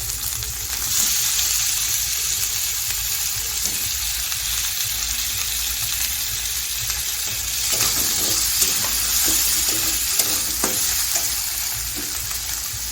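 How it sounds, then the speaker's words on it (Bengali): Chopped tomatoes hit a pan of sizzling spice paste for a cauliflower and rohu fish curry, producing continuous loud frying hiss with scattered stirring clatter and spatula scrapes toward the end. "এবার আমি দিয়ে দেবো কুচি করা টমেটো।"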